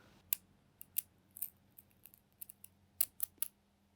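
Scissors snipping string in a quiet room, a series of short sharp clicks in irregular bursts, close and crisp with no voices.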